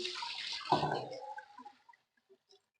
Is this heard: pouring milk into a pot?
yes